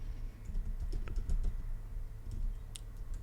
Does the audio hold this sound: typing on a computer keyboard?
yes